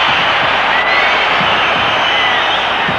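Partisan stadium crowd at the UEFA Cup Final in Vienna, Casino Salzburg against Inter Milan, a loud, steady roar of cheering that fills the air without letup.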